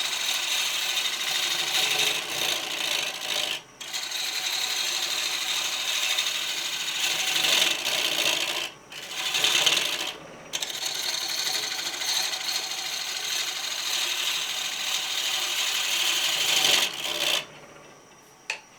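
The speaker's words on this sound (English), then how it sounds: "I'm doing some pull cuts at the moment just to try and get some of the weight out of this" A woodturning lathe makes pull cuts into a square wooden platter, the gouge giving a continuous rasping, scraping rush with brief pauses between passes, loud and close.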